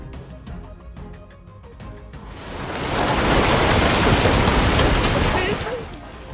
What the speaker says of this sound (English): Flooding and hail at the same time.